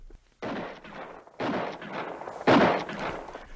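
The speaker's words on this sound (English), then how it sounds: "Suddenly I heard shots far ahead of me." Gunshot sound effects in an audiobook: three muffled, fairly distant shots, each a rough burst spaced about a second apart, with no talk.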